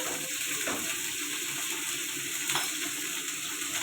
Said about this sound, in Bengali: ওদিকে কড়াতে ফুলকপিটা দিয়ে দিলাম একটু লবণ দিয়ে